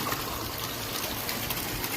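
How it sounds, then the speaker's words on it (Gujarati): Water gushes steadily from a running motor pump on a hot, cloudy day, a continuous broadband rush of flow at close range with no talk. "મોટર તો શરૂ કરી દીધી છે. પાણી શરૂ છે"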